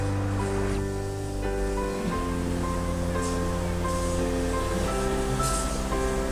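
Sea waves break steadily along the shore at Chootad beach in Kerala, a continuous loud wash of surf with a sustained tonal drone mixed in.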